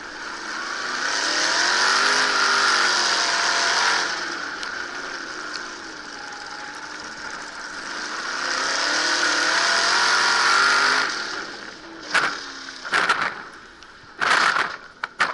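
Race cars at a New England track roaring past side by side with rising and falling engine tones, followed by a few sharp, loud impact-like bangs near the end.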